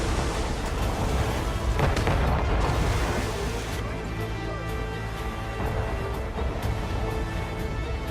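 Ship cannons firing a broadside in Assassin's Creed Rogue, heavy booms and rumbling blasts rolling over each other amid stormy sea ambience, loud and continuous with little pause.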